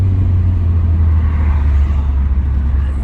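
Honda Prelude with a 2.2 VTEC engine, recently repaired for a misfire and leak, rolling along with a loud, steady low engine rumble and road drone heard from inside the car.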